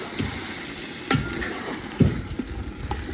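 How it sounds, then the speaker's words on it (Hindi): Garlic and onion paste frying in oil for a spiced liver dish, a soft close sizzle broken by several spoon scrapes and taps against the pan. "लहसुन और प्याज को इस तरह पेस्ट बना रहे हैं तो ज़्यादा नहीं तड़के में ऐसे भूनते"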